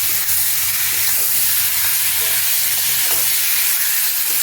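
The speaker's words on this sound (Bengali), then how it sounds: "এরপরে দিয়ে দেবো আমি আলু পেঁয়াজ ভেজে রেখেছি, এইটা আমি এর মধ্যে ঢেলে দেবো, দিয়ে ভালো করে একটু কষিয়ে" Pre-fried potatoes and onions sauté in a hot pan for an egg and onion curry, with a steady broadband sizzle and scattered scraping stir strokes throughout, close and fairly loud, no talking.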